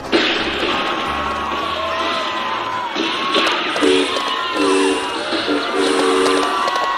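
A train sound effect on a radio show, with a rumbling, rolling run of rail noise and, in the second half, several bright whistle or horn blasts sounding over it.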